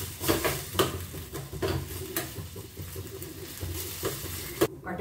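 Tomatoes being stirred in a cooking pot, with soft scraping and sizzling that runs steadily under a few sharper utensil taps against the pot, close and moderately quiet.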